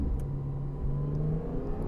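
A Porsche 718 Cayman GTS 4.0 engine runs with its active exhaust closed, giving a subdued, steady low drone with a slight rising whir, heard close and fairly quiet without any talking.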